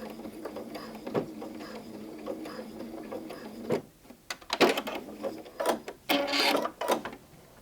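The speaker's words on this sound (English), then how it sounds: "I'm going to back stitch at the end." A sewing machine back stitches the end of a fabric potholder with quick bursts of rapid mechanical whirring. Short pauses and handling clicks fall between the bursts, all heard up close.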